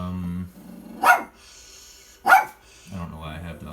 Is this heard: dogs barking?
yes